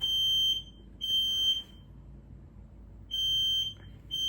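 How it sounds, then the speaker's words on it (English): A smoke alarm outdoors with no smoke sounds in loud, shrill bursts of about half a second, two close together, a long gap, then two more. "Smoke alarm going off outside with no smoke."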